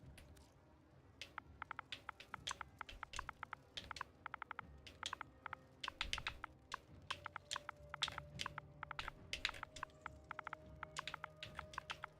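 Quiet, rapid typing on a computer keyboard, bursts of light clicking keystrokes in uneven runs with short pauses, close and alone without speech.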